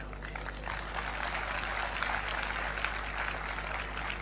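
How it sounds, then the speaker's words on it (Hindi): An audience at a talk breaks into applause, a dense steady patter of many hands clapping at moderate distance, held for a few seconds over a low background hum. "ताली मत बजाइए"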